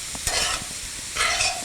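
Chopped black olives stirred into a pie filling in a pan, a brief wet scraping stir with faint sizzling, two short swishes close by and no talking.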